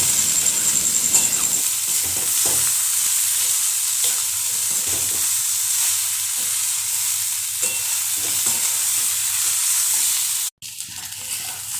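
Taro stolons cooking with turmeric, salt and sugar are stirred in a pan, a loud continuous sizzle with scraping strokes, ending in a sudden brief cutoff near the end.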